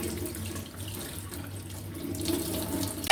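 A kitchen tap runs steadily as plantains are washed under it, a continuous splashing hiss of water close by with no talking.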